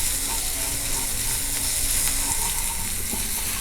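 Ginger garlic paste fries in a pan for chicken keema, producing a loud, continuous sizzle with faint scraping and stirring clicks close by.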